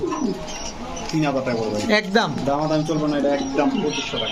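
A female pigeon at a bird market coos in soft, throaty bursts beneath people talking close by.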